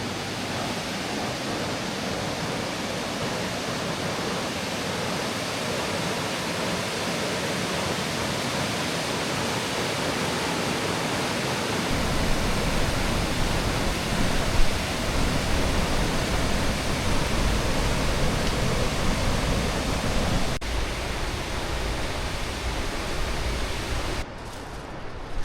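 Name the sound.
water flowing in a small canyon creek, New Zealand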